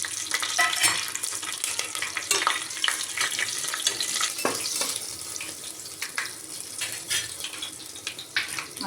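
Curry leaves, green chilies and whole spices fry in hot oil for Indrayani masala rice, giving a steady, close crackling sizzle with scattered pops and a few spoon scrapes throughout.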